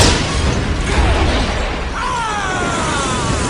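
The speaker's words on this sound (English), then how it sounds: "There's an explosion in The Grinch." An explosion from the film How the Grinch Stole Christmas, a loud sustained roaring blast with crackling debris and a rising whistle near the end, dense and close throughout.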